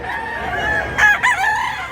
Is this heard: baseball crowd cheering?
no